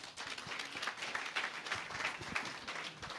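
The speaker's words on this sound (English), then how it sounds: "Clap for her." An audience claps at a recognition ceremony, a steady wash of faint, distant applause with no voices standing out, continuing evenly for several seconds.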